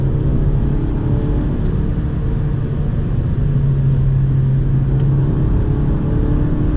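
A Honda Civic G8 with a manual gearbox accelerates along a highway, its engine holding a steady mid-pitched drone over continuous road and tyre rumble heard from inside the car.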